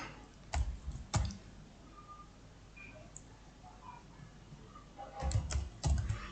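Computer keyboard keys tapped in two short bursts of a few clicks, near and crisp, separated by a quiet stretch of faint room noise.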